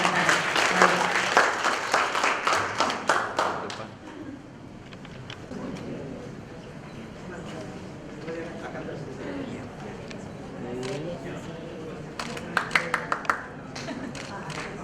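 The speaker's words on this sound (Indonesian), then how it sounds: "boleh tepuk tangannya sekali lagi kepada para pembicara kita" An audience at a World Press Freedom Day 2017 event on media in conflict and crisis claps in a burst of applause that fades, followed by talk and a short final patter of claps.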